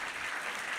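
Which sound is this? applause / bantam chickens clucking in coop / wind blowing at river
applause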